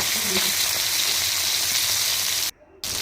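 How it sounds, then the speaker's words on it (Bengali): Fish fries crisply in hot oil with a loud, dense, continuous sizzle, close up, which cuts out abruptly for a moment near the end before resuming. "মাছটা আমি ভালো করে কড়া করে ভেজে নেব"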